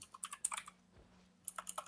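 Rapid bursts of keystrokes on a computer keyboard during an Albion game session, two clusters of clicky taps separated by a quiet pause, close and fairly crisp with no talk over them.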